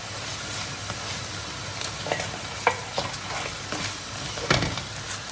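Açma bread dough frying in an oiled pan gives a steady, close sizzle broken by scattered small pops and clicks, with no voices.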